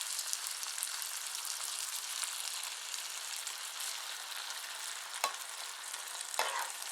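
A whole jar of salsa goes into a pan of rice for taco stuffed peppers, giving a steady close sizzle and frying hiss with stirring scrapes and two brief sharper clatters near the end.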